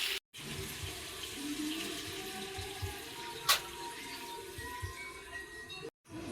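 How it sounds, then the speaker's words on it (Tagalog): Water pours steadily into a cooking pot holding chicken for kare kare, a continuous close rushing splash that runs nearly the whole time with a brief break near the start and end. "Pwede nyo na siya lagyan ng tubig."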